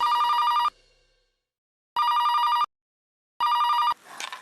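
A telephone bell rings in three loud electronic bursts of about half a second each, separated by short silences, followed by a brief rustle at the end.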